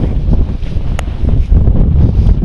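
Strong wind buffets the microphone in a constant low roar at a tractor field, with no voices.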